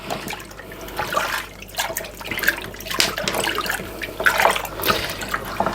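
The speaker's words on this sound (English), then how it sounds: "Crack on with the mixing." A homebrew batch is stirred by hand, with liquid sloshing and swirling continuously up close at a moderate level and no voices over it.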